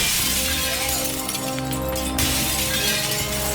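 Glass shattering and smashing as shop window dummies come to life and break through windows in a Doctor Who scene, a dense, loud crash of breaking glass sustained throughout over a low rumbling score.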